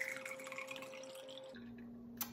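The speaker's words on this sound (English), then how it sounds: "Does anyone else love the sound of a can opening?" A can of oolong tea cracks open with a single brief, sharp pop and hiss near the end, preceded by a quiet steady hum.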